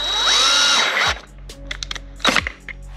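A power drill whines at high speed drilling a hole on a 2023 BMW S1000RR motorcycle, then stops. Short bursts and clicks follow, then the motor briefly revs up again.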